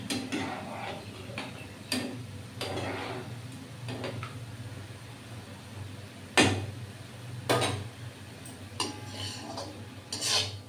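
A utensil scrapes and taps against a pan as watermelon mihidana, a fine granular Bengali sweet, is stirred, giving irregular clinks and knocks over a constant low kitchen hum.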